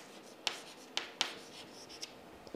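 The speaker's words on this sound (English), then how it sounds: "Let me write location" Chalk strokes on a lecture-room board: a few sharp scratchy taps and short scrapes spaced about half a second apart, close and fairly quiet with no talking.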